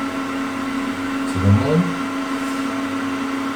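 Mango bidet MB-R1811 instant-hot-water direct-feed stainless unit blowing its air dryer on a cool setting, a steady continuous hum throughout with a brief voice speaking over it.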